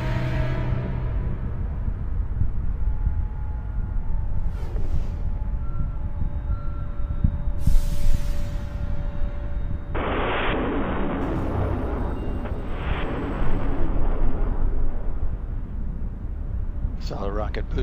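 The twin solid rocket boosters of Space Shuttle Atlantis roar during launch, a deep continuous broadband rumble heard at a distance, with a voice talking over it and a brief surge partway through.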